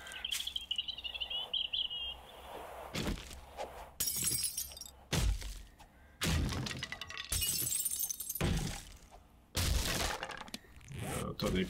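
Glass shattering in the 7 Days to Die video game, several sharp bright crashes and cracks scattered across the stretch, with quieter rustling and game ambience between the bursts.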